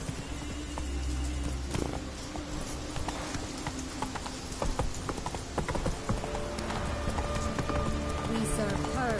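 Roach, Geralt's horse in The Witcher 3: Wild Hunt, gallops with rapid rhythmic hoofbeats under rain, a brief neigh, and speech heard partway through.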